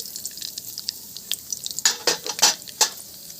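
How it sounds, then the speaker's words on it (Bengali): Panch phoron five-spice dropped into hot oil in a home kitchen pan for a Bengali chechki, starting with faint crackle and then bursting into several loud sharp sizzling pops and spits close by, with no talk. "আমি 5 ফোড়ন দিয়ে দিচ্ছি তেলের উপরে"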